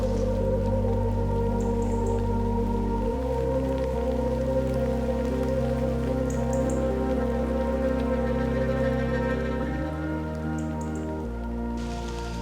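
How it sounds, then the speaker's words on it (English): Heavy rain falls steadily and loudly throughout, a continuous broadband wash over a low, humming background with no voices. "the rain is coming down pretty heavy now"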